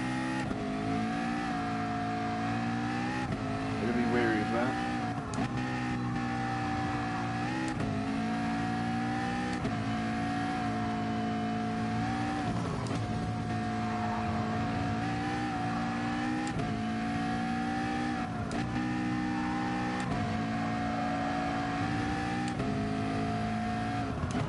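Race car engine in Gran Turismo Sport, revving steadily and holding a sustained high-pitched drone with small pitch dips as the car corners and brakes around a lap, loud and continuous throughout.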